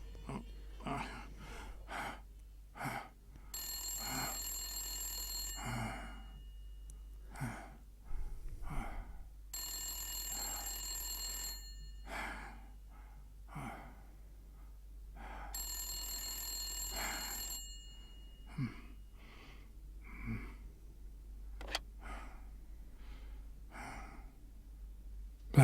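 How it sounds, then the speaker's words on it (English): A telephone rings in the Blacksad video game: three long, bright bursts of electric bell ringing at steady intervals, with heavy sighs and gasping breaths around them. "Ring, ring, ring, ring, ring, ring. Phone call, phone call."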